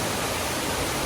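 Cheondang waterfall in a V-shaped gorge of Seoraksan, a brief, dense and steady roar of falling water, loud and close, with no voices.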